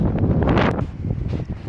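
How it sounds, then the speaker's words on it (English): Strong gusts buffet the microphone, producing loud, rumbling low roars that swell and fade unevenly with no voices present. "it's like super windy."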